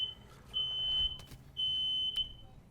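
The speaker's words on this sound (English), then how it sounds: "That's my fire alarm, hang on." A home fire alarm gives two long, piercing electronic beeps of about half a second each, separated by a short pause, fairly faint against a quiet room.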